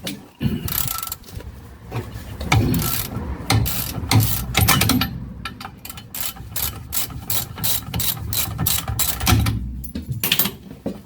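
A ratchet clicks in quick bursts as tight front brake bolts are loosened on a Jaguar Mk2 during a brake disc change, close and loud with several separate rounds of rapid clicking.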